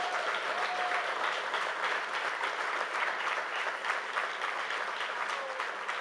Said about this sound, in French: Puis je pense que merci de l'applaudir encore une fois.